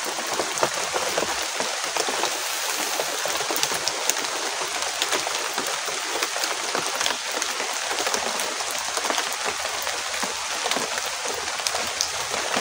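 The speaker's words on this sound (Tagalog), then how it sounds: "Ang lakas ng ulan, oh." Heavy rain pours down steadily, a dense hiss of drops drumming on surfaces nearby. It stays loud and constant throughout, with no voices.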